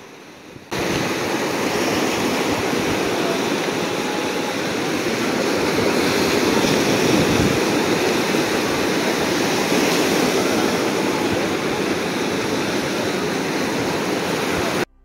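Sea waves on the beach at Cox's Bazar roll in as a broad, steady roar of surf, continuous and fairly loud, with no voices, beginning abruptly and cutting off at the end.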